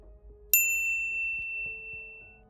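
A single bright notification bell ding strikes sharply and rings out with a clear metallic decay, followed by a quiet low musical background.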